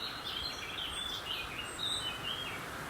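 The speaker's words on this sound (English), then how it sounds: "The birds are really overshadowing that and providing quite a cacophony of sound, as you can probably hear in the background." Several birds sing faintly in oak woodland at How Stean Gorge, a soft, distant chorus of high chirps and twitters over a steady background hiss.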